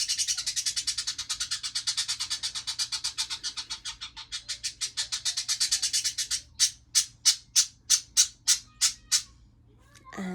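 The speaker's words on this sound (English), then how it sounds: "And that was my bird." A pet bird squawks and chirps indoors, first a long rapid rattling trill that slows, then about ten separate loud, evenly spaced calls, close and alone.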